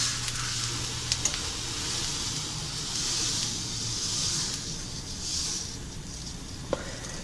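Broth for egg lemon soup bubbles steadily in a pot with a quarter cup of pasta added, giving a continuous soft hiss and simmer with a couple of faint clinks.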